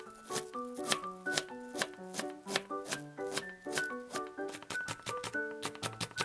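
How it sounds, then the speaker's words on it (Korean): A knife chops cabbage, green onion, chili pepper and bacon on a board in quick, steady taps, quiet and close, over light background music. "베이컨 썰어주세요"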